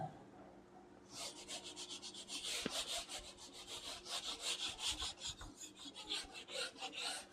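Steady rhythmic rubbing strokes as writing is erased from a classroom board, a brisk back-and-forth scrubbing repeated many times at close range with no talking over it.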